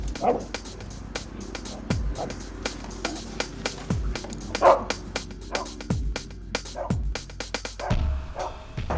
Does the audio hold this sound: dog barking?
yes